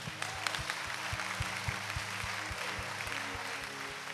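Congregation clapping during a church sermon, a rhythmic, evenly spaced beat of many hands with a low steady hum underneath, moderately faint and continuous.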